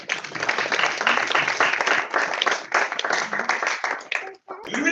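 A church congregation applauds together in lively, fast clapping with some cheering, for about four seconds, before the clapping breaks off and a voice speaks.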